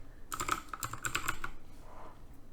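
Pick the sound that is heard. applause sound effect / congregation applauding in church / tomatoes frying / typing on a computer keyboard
typing on a computer keyboard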